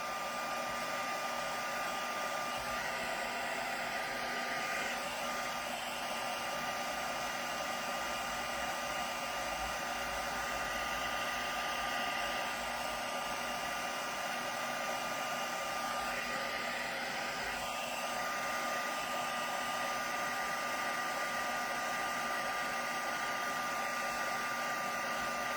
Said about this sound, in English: just speeding up the drying process for that pigment ink